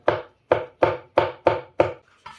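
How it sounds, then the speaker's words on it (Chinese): A knife chops a ham sausage into small dice on a board, six evenly spaced crisp thunks about a third of a second apart, close and clear with silence between strikes. "最后我们也给它切成小丁。"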